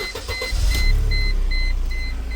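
Supercharged engine of a Mercedes W202 C230K settles into a steady low idle after a brief startup flutter, close and continuous, with a faint high whine running through it.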